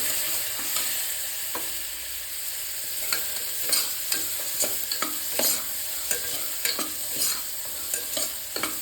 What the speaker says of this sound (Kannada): ಹೀಗೆ ಬಟಾಣಿ ಹಾಕಿದ ತಕ್ಷಣ ಸ್ವಲ್ಪ ಹುರ್ಕೊಳ್ಳಿ.